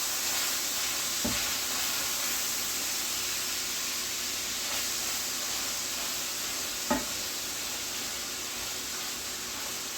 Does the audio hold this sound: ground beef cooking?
yes